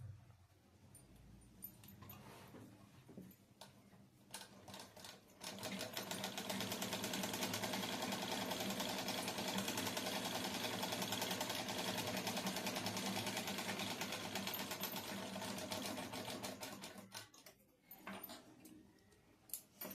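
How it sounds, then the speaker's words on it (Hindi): Sewing machine running a stitch along the edge of a cloth, a fast even mechanical whir lasting about twelve seconds, with brief handling noises before and after and no talk. "सबसे पहले कपड़े को ये लास्ट में ले आना है और एक सिलाई चला लेनी है"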